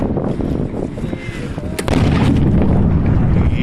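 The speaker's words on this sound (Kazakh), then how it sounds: "Арыс жарылып жатыр." Explosions at the Arys ammunition depot in Kazakhstan, heard as heavy booming blasts and rumbling detonations close by, with a sharp loud burst near the middle and a continuous roar of further explosions after it.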